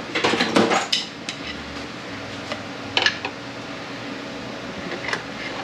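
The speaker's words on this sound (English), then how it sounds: "I'm going to get a hammer and I'm going to tap up right there." Hammer tapping on a Honda BOYA case during disassembly, giving a few sharp metallic clinks and knocks that come in short bursts and single hits against faint background noise.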